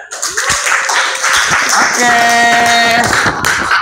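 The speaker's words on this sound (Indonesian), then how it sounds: "tepuk tangan" Students clapping in a classroom during a teacher's lesson, a short loose patter of hands that builds quickly, with a voice speaking over it and a brief sustained vocal tone in the middle.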